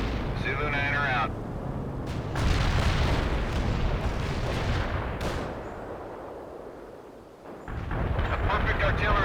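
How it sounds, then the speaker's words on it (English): Artillery shells explode in a World in Conflict battle, heavy booms and rumbling blasts rolling one after another, loud and close, mixed with radio-style voices speaking over the game sound. "A perfect artillery hit."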